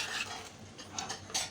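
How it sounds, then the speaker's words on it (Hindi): Mutton keema being stirred in a karahi, a soft scraping and clinking of a spoon against the metal pan with a few brighter taps, close and moderately loud, no talking. "इसमें मिक्स करके अब इसको ऐसे मिक्स करना है"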